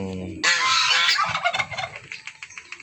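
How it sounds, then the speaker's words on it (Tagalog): A loud, rattling turkey gobble bursts out after a brief tonal call, then breaks into choppy gobbling pulses that trail off, close by. "ito yung dalawang pabo nandito"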